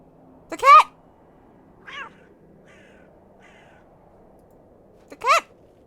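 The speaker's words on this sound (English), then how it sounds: "The cat!" Cat meowing in the adventure game The Excavation of Hob's Barrow: two clear, fairly loud meows a few seconds apart with a fainter short call between them, over a quiet background.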